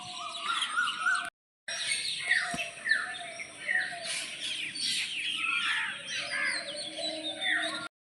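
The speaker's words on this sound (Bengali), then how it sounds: "আর ভোরবেলাটা এত সুন্দর লাগে চারিপাশে পাখিদের ডাক" Crows and other birds call at dawn on a cool morning after a hailstorm, with overlapping caws and chirps at moderate distance and a brief moment of silence early on.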